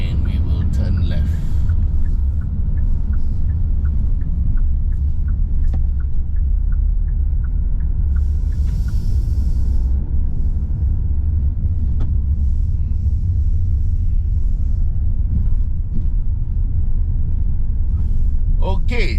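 A Kia Carnival seven-seater MPV climbs Genting hill and overtakes, its engine a loud, steady rumble with road noise throughout while a driver talks over it.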